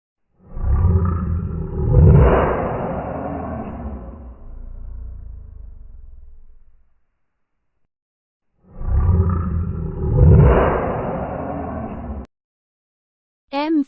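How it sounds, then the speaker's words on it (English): A lion roars twice, loud and close, each a long, deep, throaty burst of several seconds separated by silence, with no talk over it. "L for lion."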